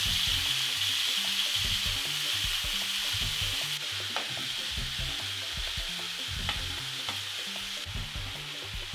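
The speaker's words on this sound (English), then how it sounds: "Continue searing until the beef is nicely browned on all sides, turning as you go." Beef steak pieces sear steadily in a hot pan with a continuous crackling sizzle, broken by faint scrapes and clinks of stirring as the meat is turned, with no voices over it.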